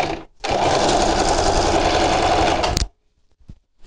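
A sewing machine stitches the side seams of an apron made from denim jeans in one steady, loud burst of about two and a half seconds, then stops, leaving near silence.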